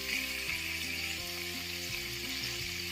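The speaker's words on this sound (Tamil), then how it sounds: "எல்லாமே 2 நிமிஷம் ஃப்ரை பண்ணி எடுத்துக்கலாம்" Prawns and chicken frying together in a pan for fried rice give a faint, steady oil sizzle with a few soft knocks, and nobody speaks.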